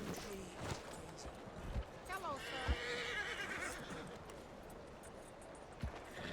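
A horse in the video game Red Dead Redemption whinnies briefly mid-scene amid hoofbeats and game ambience, while someone talks over it.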